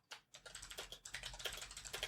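Quick bursts of typing on a computer keyboard, rapid clattering keystrokes with short pauses between runs, close and quiet, no voices.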